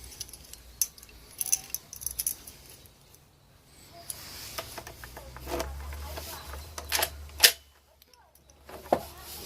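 Keys jangle and click against a black lock in a series of short metallic taps and rattles, close and fairly faint, with brief pauses between bursts.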